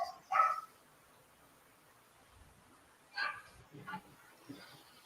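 A dog barks in a home, a few sharp separate yaps with quiet gaps between them, fairly faint and slightly distant, along with soft whimpering noises.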